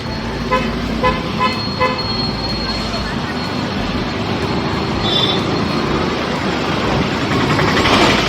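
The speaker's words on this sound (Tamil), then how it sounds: "O traffic traffic traffic" Busy crowded street traffic in Ramanathapuram ahead of Ramzan, a dense continuous roar of engines with repeated car horns tooting near and far, and people talking through it.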